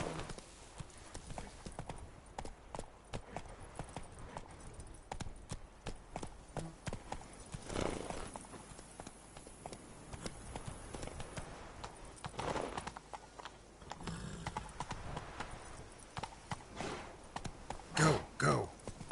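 Roach the horse galloping in The Witcher 3, a fast, steady run of hoofbeats that stays close the whole time, with a few louder thuds along the way and a voice breaking in now and then.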